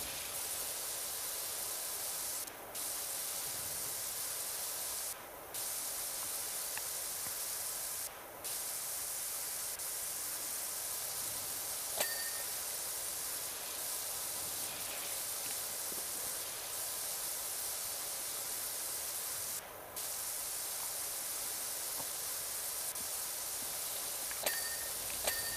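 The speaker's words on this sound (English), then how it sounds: "let's spray a little bit better on the windows here to clean these off." Continuous loud hiss of a pressure washer spraying in PowerWash Simulator 2, a steady broad rush broken by a few brief pauses, with faint clicks from the game.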